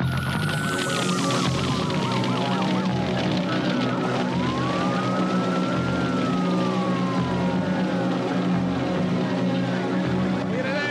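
Wailing sirens rise and fall over a loud, busy scene with engine rumble and commotion, the sirens sweeping continuously throughout.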